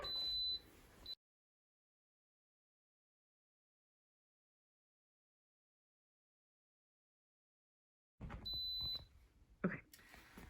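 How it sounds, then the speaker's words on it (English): An Instant Pot pressure cooker making chicken wings sounds its done timer: short, clear electronic beeps near the start, then a long silence, then another burst of beeps mixed with kitchen noise. "Okay, so our timer just went off."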